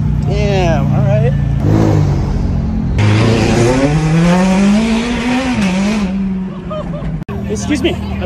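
A supercar pulls away hard with its engine revving up and tires squealing in a long rising whine, loud and close, with people talking before and around it.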